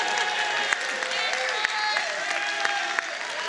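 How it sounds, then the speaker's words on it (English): Audience applause fills a Worldcon hall as a continuous wash of clapping, with a few sharper claps standing out and melodic music running underneath. "Can we get a round of applause for Adrian?"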